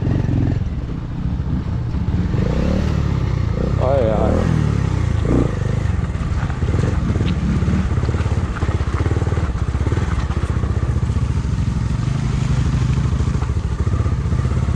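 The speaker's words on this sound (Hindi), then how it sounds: "और ये राहुल ने भाई भगा दी है बाइक अपनी।" Off-road motorcycle ride through water on a rough, dangerous trail, with a steady loud engine drone, splashing and clattering thumps throughout, close and continuous.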